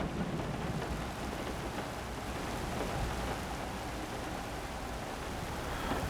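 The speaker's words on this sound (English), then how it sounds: "Why is the rain coming in here?" Rain and rumbling thunder pouring through an open window in the horror game Layers of Fear, a dense continuous wash of rainfall with low rolling booms.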